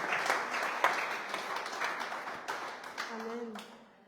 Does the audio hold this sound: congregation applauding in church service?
yes